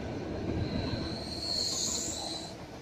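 A Sydney Tangara train runs through Turramurra station without stopping, giving a steady rumble with a high wheel whine that swells in the middle and stays loud for the whole stretch. No voices are heard.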